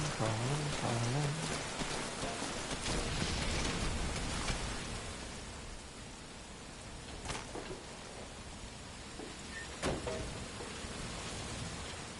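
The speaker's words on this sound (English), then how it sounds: "That rain just won't let up." Heavy rain falling in the stealth video game Metal Gear Solid V: Ground Zeroes, a steady hiss of downpour on surfaces with scattered drops and a few sharper impacts, constant and fairly quiet.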